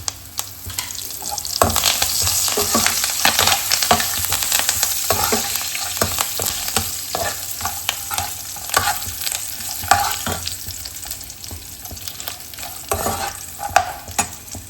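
Green chillies and curry leaves frying with peanuts in hot oil for temple-style Melukote puliyogare, a steady sizzle with stirring scrapes and clinks, close and moderately loud, no talking.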